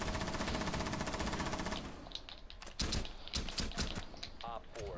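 Rapid video game machine-gun fire, a dense steady rattle for the first two seconds, then scattered separate shots and impacts over game sounds, with a voice heard briefly near the end.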